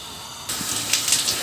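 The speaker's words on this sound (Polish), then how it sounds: "i smażymy na rozgrzanym tłuszczu z każdej strony, aż się zarumienią" Breaded mortadella cutlets go into hot fat and start to fry, a sudden bright sizzle that bursts in partway through and keeps crackling softly with small pops.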